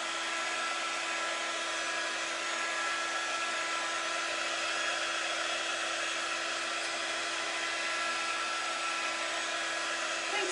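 A handheld heat tool blows over freshly waxed wood with a steady, close, high-pitched motor whine and rushing airflow that holds unchanged throughout.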